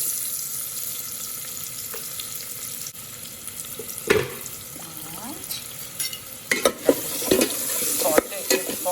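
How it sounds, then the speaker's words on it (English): Chopped onion sautéing in an Instant Pot on the sauté setting, a soft steady sizzle with stirring clatters and scrapes that get busier toward the end. "Saute it for about a minute or so till they become golden brown."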